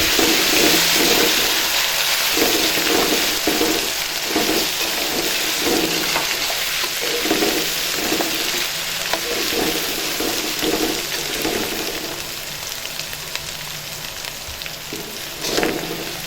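Ginger-garlic paste fries in oil for an egg and potato curry, giving a continuous close hiss and sizzle with faint rhythmic stirring sounds and no voices.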